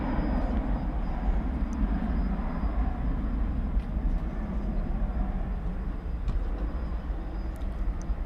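An American Airlines jet departing DFW runway 18 right on a long-haul flight to Doha, heard at night as a steady, fairly distant engine roar with low rumble throughout, no voices.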